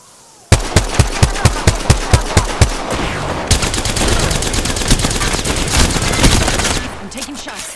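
Hemlock assault rifle firing in Apex Legends: a steady string of about a dozen sharp, evenly spaced shots, then dense, continuous gunfire with overlapping impacts that carries on for several seconds, loud and close.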